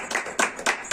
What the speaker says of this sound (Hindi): उनके लिए हम जोरदार तालियां बजाएंगे